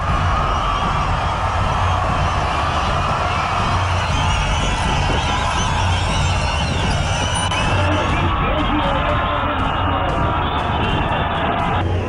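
Thousands of angry protesters crowd Marina Beach in Chennai, a loud, dense roar of shouting and chanting voices that holds steady throughout, with a narrator speaking over it.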